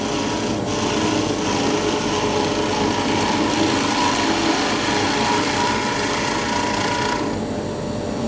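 A wood turning lathe spins steadily, giving a continuous whirring, rasping drone with a faint tonal hum, loud and close, dropping slightly in intensity near the end.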